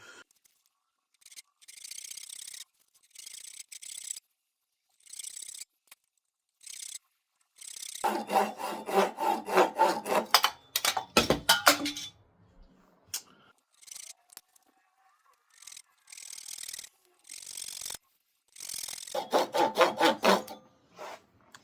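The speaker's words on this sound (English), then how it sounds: "I can definitely get that sanded down" Black palm wood whistle being sanded by hand: short, rhythmic rasping strokes come in bursts separated by pauses, close and fairly loud, with a few quicker scrubbing runs in between.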